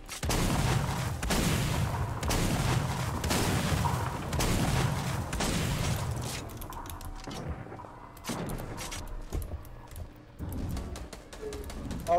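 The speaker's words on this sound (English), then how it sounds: "I hear gunfire." Bursts of Fortnite Battle Royale gunfire crackle repeatedly over a dense, noisy mix, with sharp shots standing out in the later half.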